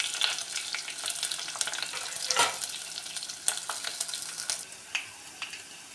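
Dried red chillies, onion and curry leaves fry in oil in a pan for a greens rasam, a steady close sizzle broken by occasional sharp spatula scrapes and stirring knocks, with no voices.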